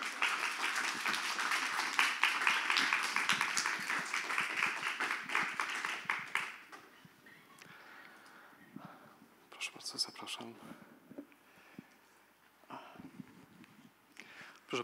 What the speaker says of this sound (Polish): bardzo bym prosił pana Ireneusza Kani tutaj i o brawa.